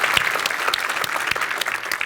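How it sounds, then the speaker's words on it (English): A conference audience at an Ignite session gives a final round of applause for seven speakers, steady dense clapping with a few sharper nearby claps standing out. "So let's give them one final round of applause."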